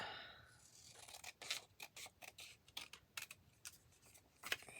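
Scissors trim a dark strip of paper for a collage, making a string of quiet, close snips and crisp cuts in irregular bursts, with a slightly louder snip near the end.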